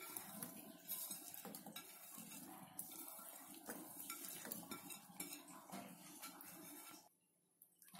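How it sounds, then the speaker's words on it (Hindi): Chopped pickle vegetables are mixed with salt in a bowl for a mixed achar, making close scraping and clinking of a spoon against the bowl in irregular bursts, with faint water noise, before it drops quiet near the end. "अब सारी सब्जियों को मिला देंगे।"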